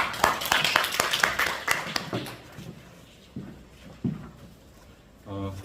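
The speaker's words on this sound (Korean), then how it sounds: "박수를 한번 모시겠습니다." An audience at a workshop applauds a professor being introduced, with sharp distinct claps for about two seconds that thin to a few scattered ones, then a voice begins at the end.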